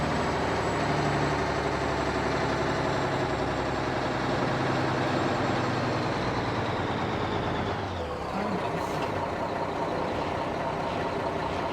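Old Mack R model truck idling in American Truck Simulator, a steady, loud diesel rumble with a rhythmic chug throughout, briefly dipping and shifting near the end as the engine note changes, no talking.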